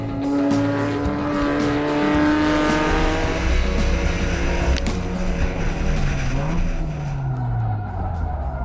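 Mazda Miata race car spinning off the track on a race circuit, its engine note dropping and wavering with tire scrub and skidding noise, loud and close throughout without talk.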